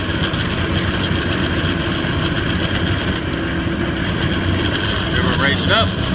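A Mahindra 2538 tractor with its PTO engaged runs at a steady, loud diesel drone, with a person talking over the engine throughout.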